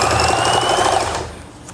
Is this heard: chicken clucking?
no